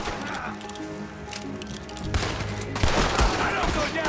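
Rapid video-game gunfire crackles in dense bursts, growing louder partway through, with voices talking over the shots.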